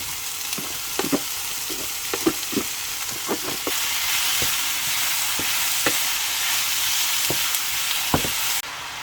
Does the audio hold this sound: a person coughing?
no